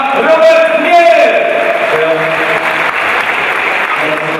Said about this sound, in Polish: gorące brawa, Robert Mier!